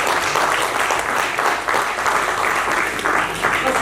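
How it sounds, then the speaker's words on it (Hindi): An audience at a stage play in Kanpur gives steady, loud applause throughout, a dense wash of many hands clapping close up with no break. "एक बार प्लीज तालियां हो जाए"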